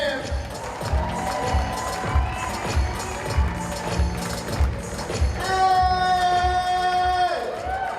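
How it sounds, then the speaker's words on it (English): A comedy club audience claps and cheers for a stand-up comedian taking the stage at a roast-battle style show, with steady loud applause and whoops, a rhythmic beat of music underneath and a sustained musical tone rising near the end. "Clap those hands."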